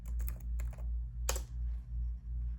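Someone types a username and password on a laptop keyboard: quick, light key clicks in short bursts with a pause, then one sharper press, over a steady low electrical hum.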